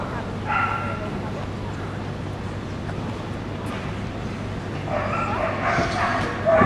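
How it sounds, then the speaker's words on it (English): A 7-year-old Border Collie barks and yips on the course at the Crufts 2007 agility competition, several short calls standing out near the start and end over steady arena crowd noise and an announcer's commentary. "this is Kite, agility champion, spellcast, made in heaven, a 7-year-old Border Collie"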